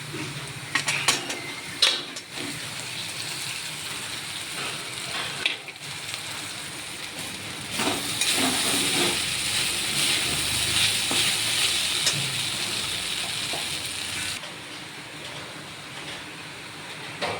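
Flattened rice is stirred into boiled potatoes in a pan, giving soft sizzling and bright scraping clatters of a spoon against metal, with a denser hiss through the middle, close and fairly quiet, no talk.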